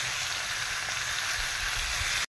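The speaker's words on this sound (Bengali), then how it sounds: "মাছের মাথাটা ভাজা হচ্ছে।" A fish head frying in a pan for a special home-cooked meal gives a steady, even hiss of hot oil. The sizzle holds constant and moderately close, then stops abruptly just before the end.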